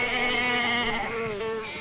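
A sheep bleats in one sustained, wavering call lasting under two seconds, close and fairly loud, heard at a farm feeding.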